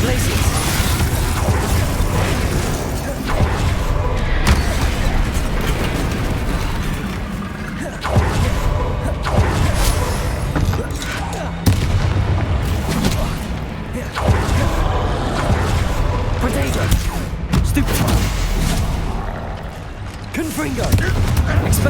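Spell-casting combat in Hogwarts Legacy, with dense, continuous explosive blasts, booms and crackling magic impacts layered over a busy game soundscape, with voices calling out in the background.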